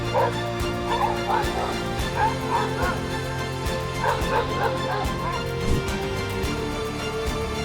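Repeated dog barks and yips in quick bursts over a steady low hum, fairly close, with a few whimpering tones between barks.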